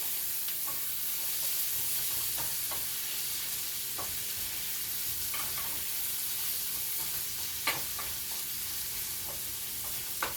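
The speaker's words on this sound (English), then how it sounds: "You want to make sure you give this a good mix together." Spices stirred in a cooking pot for curry shrimp in coconut milk, a steady close sizzle with repeated soft scraping strokes and occasional utensil clicks against the pot.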